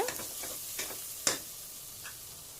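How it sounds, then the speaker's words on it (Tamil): Masala for chicken curry sautéing over a low flame, a faint, soft sizzle with a few light clicks and taps from the pan, quiet throughout and with no talking. "இந்த மாதிரி நல்லா வதக்கி எடுத்துக்கோங்க"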